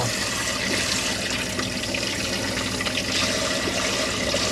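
Hot water pours steadily from a tap into a sink in an Elddis Signature CV80 motorhome, a continuous, close splashing rush with no voices.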